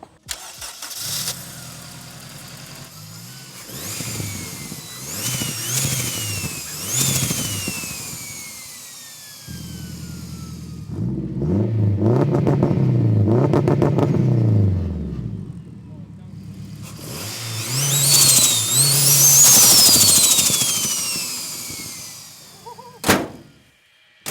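A modified car, running aggressive 9.5-inch wheels with 35 offset on its chassis, cranks to life and revs hard several times, the engine rising and falling loudly up close between steady idling stretches, with brief voices heard.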